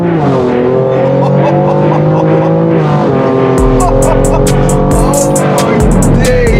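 A BMW M4 with a very loud exhaust in sport mode revs hard and close, its engine note rising and holding before sharp crackles and pops burst through, while voices talk over it.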